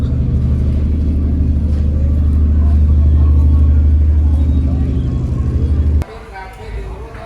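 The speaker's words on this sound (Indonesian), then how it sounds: "mobil truk masih mau masuk ke sini, ke kapal Wira Berlian" A loud, steady low engine rumble from a truck driving aboard a car ferry in Indonesia, close and continuous for several seconds before it suddenly cuts off.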